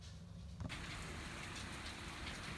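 Thunderstorm rain mixed with hail falls outside a home in a steady broadband hiss that thickens abruptly after a brief quieter start, continuing unbroken and moderately loud with no talking.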